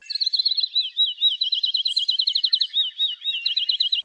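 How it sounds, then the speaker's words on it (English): A field sparrow's high, thin song repeated clearly and alone, a run of quick whistled notes that speed up into a rapid trill, with no background noise. "The field sparrow sounds like a ping pong ball dropping."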